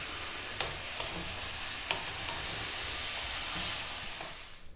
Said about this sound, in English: we're going to go on this high heat just for another 3 or 4 minutes, stir frying all the time